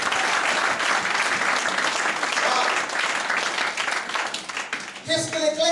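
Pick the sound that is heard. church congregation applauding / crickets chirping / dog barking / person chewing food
church congregation applauding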